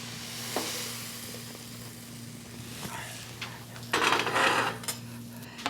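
Browned mushrooms and onions tipped from a hot pan into a slow cooker set on low, a soft sizzle with scraping and a clatter of cookware near the end, faint and close against a steady hum.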